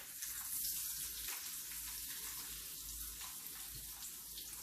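Catfish and corn fritters fry in hot oil, giving a continuous soft crackling sizzle with faint pops, low in level and steady throughout.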